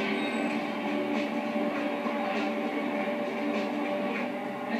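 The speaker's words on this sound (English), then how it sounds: "At 12:20, Hayashi's train arrives, exactly on time" A Yamanote Line train arrives at a Tokyo station, a steady loud rumbling hum with a faint high whine and rhythmic rolling thumps, continuous and close, with no voices.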